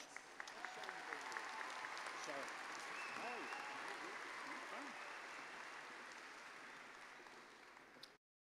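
A graduation commencement audience claps in sustained applause for graduates, a broad even wash of many hands filling a large hall, steady then tapering off toward the end.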